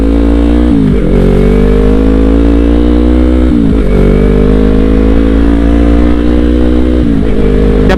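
A Yamaha YZF-R3 twin-cylinder motorcycle engine idles loudly and close, with three quick throttle blips that rise and then fall back to a rough, steady rumble.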